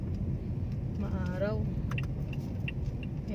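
A car pulling into a home driveway and parking, with a steady low engine and road rumble throughout and brief jingling of keys, while a person talks over it.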